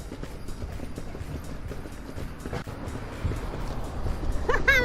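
Horse hooves clip-clop at a riverside port heritage site as the horse moves along, a rhythmic series of fairly faint clops under general outdoor noise, with a brief higher squeal near the end.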